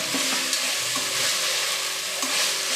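Green peas hit a hot pan of sizzling soya veg pulao, with loud, steady frying hiss and a few stirring clatters close by.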